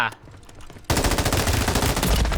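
Automatic gunfire from a gun in the Warzone video game erupts after a near-silent second, then continues as a loud, close, rapid and sustained burst.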